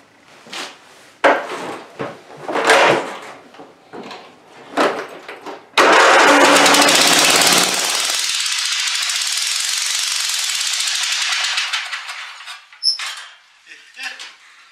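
An abused Craftsman riding mower, which won't start, cranks with a loud whirring starter in repeated tries and then roars briefly as the engine catches and runs rough for several seconds before dying away. Voices talk around it.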